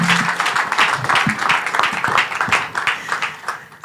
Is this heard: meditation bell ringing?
no